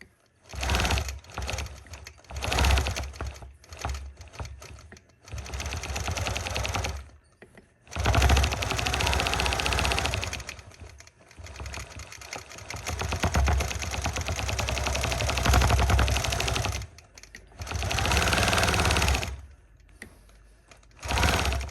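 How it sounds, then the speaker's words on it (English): A sewing machine stitches a quilt right up against a flower appliqué. The motor runs in loud, close bursts a few seconds long, with short pauses between them. "I made sure to stitch really close to that applique just to nail everything down and nail everything in place"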